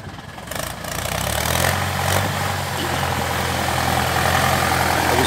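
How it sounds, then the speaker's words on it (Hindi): A Swaraj 735 FE tractor engine runs loud and steady while its wheels slip in wet mud in bad weather, the droning roar rising after a brief start and holding throughout. "अब देखिए खालिश ट्रैक्टर चलता भी स्लिप मार रहा है"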